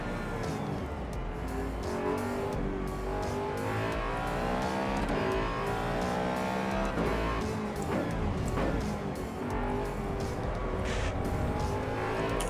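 A Ford race car's engine roars steadily in the Assetto Corsa Evo racing sim, rising and falling in pitch through gear changes, with occasional tire scrub and squeal, loud and continuous throughout.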